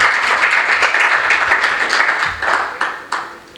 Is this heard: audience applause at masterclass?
yes